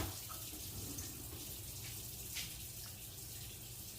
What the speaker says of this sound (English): Let me cut the water off.